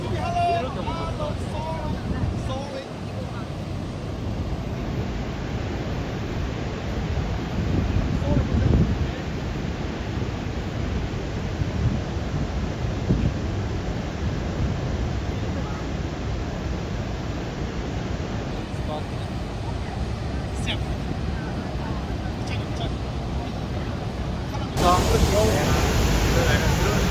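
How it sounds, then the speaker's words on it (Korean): Constant heavy wind buffeting and a broad, rushing roar beside Niagara Falls, loud and close for the whole stretch, with a brief gust surge near the end and no clear talk over it. "이게 폭포 떨어지는 것 때문에 바람 엄청 부는 것 같아."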